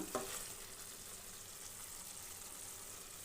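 Chicken korma being stirred in a pan, a soft continuous sizzle of frying with a brief clack of the spoon at the start, quiet and close.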